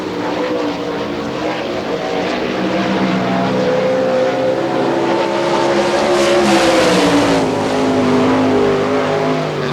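A sprint car engine roars steadily on a dirt oval at Hartford, Ohio, during an All Star Circuit of Champions qualifying lap, loud and close throughout, with pitch rising and falling as it swings through the turns.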